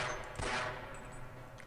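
A gunshot in the video game Half-Life, one fairly quiet burst over steady game background noise and fading quickly.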